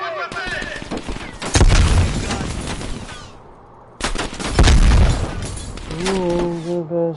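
A grenade blast and bursts of automatic gunfire in Call of Duty: Black Ops Cold War, loud, heavy booms and rapid rattling shots in two clusters, with shouted voices and game sounds around them.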